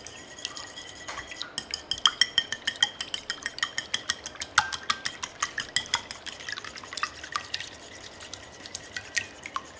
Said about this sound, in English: you're just going to give this a good whisk, and you do want to make sure the eggs are well broken up